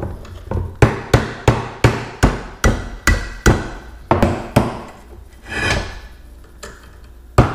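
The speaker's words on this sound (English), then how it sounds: "stick the pick in here and then tap on it with a hammer" A hammer taps a pick against the roller pin of a Johnson Evinrude 6 hp outboard drive shaft about a dozen times in a steady rhythm, sharp and close, with a short scraping sound near the end.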